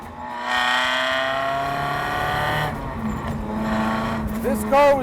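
A 1975 Toyota Corolla with a supercharged Lexus V8 swap pulls hard with a loud, rising engine note, easing off and building again, close by with some talk over it.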